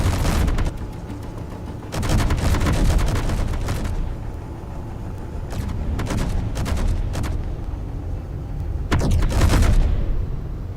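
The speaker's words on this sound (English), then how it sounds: "guns, please shoot them" Ship guns in Space Engineers fire in loud rapid volleys, several separate bursts over about ten seconds, booming against a steady rumbling background.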